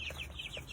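Young chickens and chicks on farm roost bars cluck in a rapid run of short, bright calls, close and steady over a constant low background hum.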